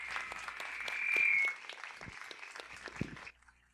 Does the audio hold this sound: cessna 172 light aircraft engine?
no